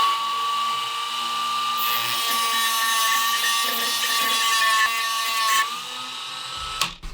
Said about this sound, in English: then I can get my little grinder out